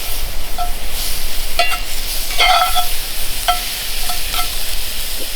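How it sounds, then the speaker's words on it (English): Mushrooms, peppers and onions sizzle steadily in butter in a hot pan, a constant close hiss broken by a few clicks and scrapes of stirring. "Start sizzling that up."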